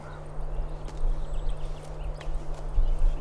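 Horse hooves clip-clop steadily at close range as a rider handles a roping lariat, the irregular thuds riding over a constant low hum and some background noise.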